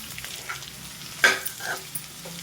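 Large pumpkin pieces for a tamarind stew being stirred in a pan, with a soft scrape and faint sizzle rising once near the middle, then a few quieter stirring touches against low background hiss.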